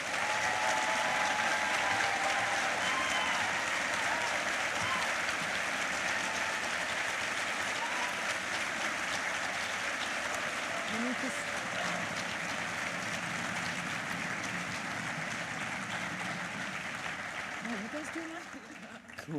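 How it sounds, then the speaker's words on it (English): Prolonged applause from a crowd at the St. Mary's Academy convocation ceremony honoring graduates, a dense continuous wash of clapping lasting nearly twenty seconds with faint voices mixed in. "Let's give them a round of applause."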